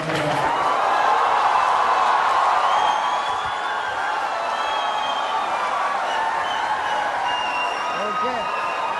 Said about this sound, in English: Please keep clapping. Give it up for Kunal Kamra.